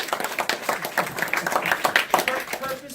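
An audience at a church claps and applauds for an 11-year-old boy, with steady, dense clapping filling the room throughout.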